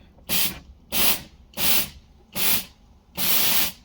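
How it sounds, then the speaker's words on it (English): A rebuilt, previously stuck nitrous solenoid sprays in five short bursts of forceful hiss, evenly spaced with brief silences between them, close by and fairly loud. "It's not spraying as much as I thought, though."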